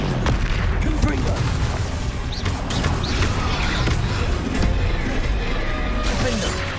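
A Confringo spell blast in a wizard-school video game, erupting into loud, continuous booming and crashing rumbles with clattering debris, dense and sustained for several seconds.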